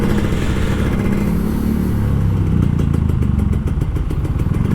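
A Kawasaki Ninja RR motorcycle engine drones steadily and loudly up close while riding through Jakarta traffic on the commute home, a continuous low rumble with slight swells in pitch and a faint rhythmic clatter.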